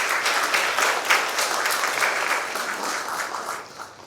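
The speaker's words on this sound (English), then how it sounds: "Please give him a round of applause." Audience applause at a formal ceremony in the Bahamas, honoring a newly elected chief councillor: a dense, steady wash of many hands clapping that holds for about four seconds and then thins slightly toward the end.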